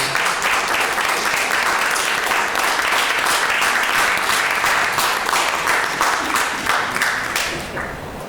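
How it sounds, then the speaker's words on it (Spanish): An audience at a literary tribute at Centro Borges bursts into sustained, dense applause, many hands clapping steadily for several seconds before tapering off at the end. "aplauso por eso"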